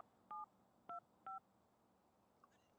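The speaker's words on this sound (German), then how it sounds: "Er geht wieder an sein Lieblingsplätze telefonieren." Phone dialing in The Sims 3: three short, evenly spaced touch-tone beeps sound clearly against a quiet background, followed by a few faint clicks.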